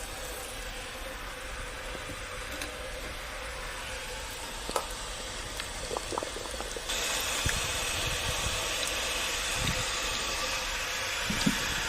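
Water in a large water bath canner, filled with jars of home-preserved squash, zucchini, tomatoes and pickles, heats back toward a boil with a steady low hiss and rumble, growing slightly louder partway through, with occasional faint bubbling pops.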